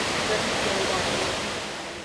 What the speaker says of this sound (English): Indian Ladder Falls is a glacially formed waterfall of 3 tiers, collectively about 55 feet high.